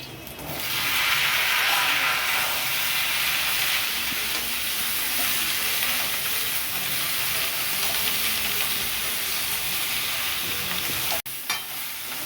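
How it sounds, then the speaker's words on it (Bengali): Sliced ridge gourd frying with potatoes in a pan, a loud, continuous close sizzle with stirring that barely pauses near the end; no voices. "ঝিঙেটা দিয়ে বেশি ভাজবো না, একটু নাড়াচাড়া করে নিলাম আলুর সাথে"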